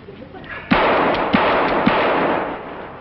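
Shooting-gallery gunshots in an old radio comedy, three sharp loud cracks spaced about half a second apart, each followed by a lingering hiss of noise, with no talking over them.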